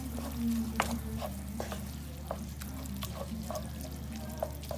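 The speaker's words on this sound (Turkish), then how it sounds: "Şöyle güzelce karıştırıyorum." A spoon works through a vine leaf filling mixture in a pot over a steady low hum, each stir giving a short wet scrape or clack at an irregular pace, close and without talk.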